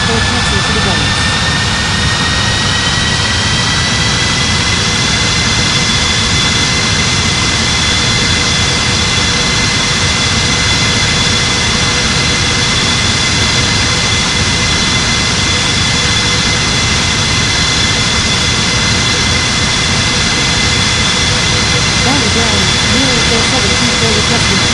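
A jet airliner, an Airbus A340-600 or Boeing 777-300ER, roars steadily during its takeoff run on runway 27, a loud continuous engine rumble with a high whine, while radio talk continues over it.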